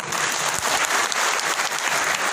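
Audience applause at a speech, a steady dense wash of many hands clapping close and loud throughout, with no voices over it.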